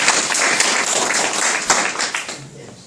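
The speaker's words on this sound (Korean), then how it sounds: "천부경 맞췄으니까 박수 한번 칠까요?" An audience at a Korean history lecture breaks into a loud, dense round of clapping that holds steady before thinning out near the end, with a faint voice mixed in.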